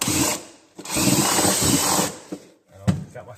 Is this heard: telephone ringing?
no